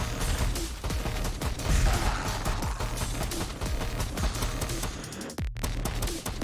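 Dense, continuous game combat in the co-op twin-stick shooter Rift Loopers, with blaster grenade blasts and rapid firing overlapping in a loud, steady barrage, briefly cut off near the end before resuming.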